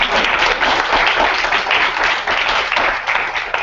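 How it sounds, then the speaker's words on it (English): An audience at a UCLA Black Alumni Association general assembly meeting applauds the board members with sustained, full-room clapping that holds loud and even throughout. "Yay, let's clap our board members."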